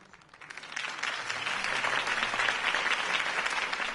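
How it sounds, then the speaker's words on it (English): A crowd breaks into sustained applause after a political campaign speech, rising quickly after a quiet start and holding steady, dense clapping throughout. "could have heard that applause"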